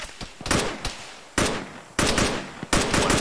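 Sustained automatic gunfire and rifle bursts pour onto enemy bunkers during a ShackTac squad assault in the military shooter ArmA, loud close bursts repeating in rapid irregular volleys with sharp onsets and no talking.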